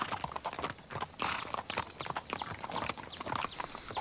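Hooves of several horses clip-clop in quick, uneven rhythm during a trail ride on a ranch, close and continuous, with occasional rustling around them.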